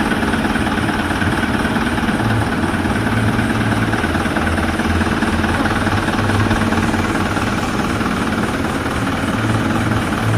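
A truck engine runs steadily for the whole stretch, a loud continuous low rumble and idle with constant vibration and no voices.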